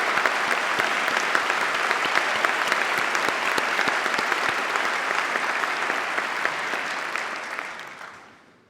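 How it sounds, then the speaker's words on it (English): Sustained audience applause at a Birmingham City University graduation ceremony, a dense steady clapping from a large crowd that holds for several seconds before fading out at the end. "Please join me in giving them a warm round of applause."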